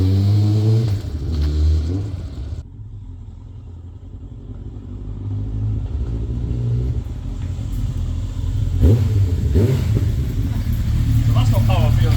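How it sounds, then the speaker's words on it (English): Close by, a BMW 1200cc four-cylinder motorcycle rumbles at a smooth, steady idle, with a brief rev or two toward the end, while someone talks over it throughout. "he's just started the Beamer up. It's so smooth sounding. 1200cc 4-cylinder."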